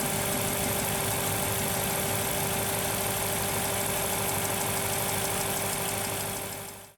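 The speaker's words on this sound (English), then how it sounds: "you can still hear this distinctive metallic type tap" A steady Aston Martin V8 engine idling close by, with a fine metallic ticking tap from excessive valve clearance running through its even mechanical drone, continuous for about seven seconds.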